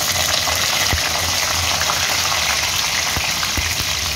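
Dried red chillies sizzle in hot oil for tempering, a dense, even crackling hiss close up with a few faint clicks of utensils.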